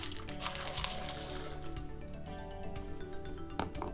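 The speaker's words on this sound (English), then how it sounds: "And then we'll just pour in our chocolate." Melted chocolate pours into a crock pot of whisked hot chocolate mixture, giving soft wet squishing and dripping sounds that run fairly quietly and continuously, with a few sharper knocks.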